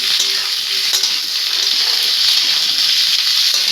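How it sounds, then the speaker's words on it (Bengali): Carrots sizzle loudly in a hot pan with potato and onion while a spoon stirs them, giving a dense, constant frying hiss with occasional scraping taps, close up and without speech. "গাজরটা দিয়ে আমি এখন নাড়বো।"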